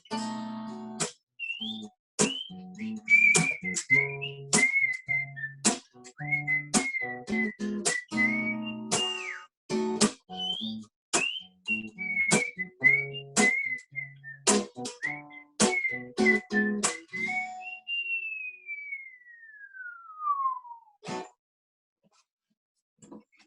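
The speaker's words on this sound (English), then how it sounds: "I hope I didn't blast anyone's eardrums out with that whistling there." A person whistles the melody of a song with short sharp notes over a plucked accompaniment at an open mic, ending with a long sliding whistle that falls in pitch.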